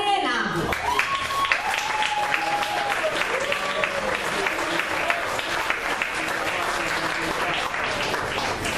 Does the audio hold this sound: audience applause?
yes